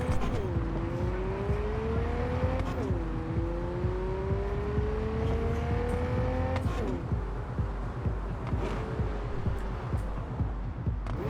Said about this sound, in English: Feel that back braking. I feel like this thing could like fishtail in an instant.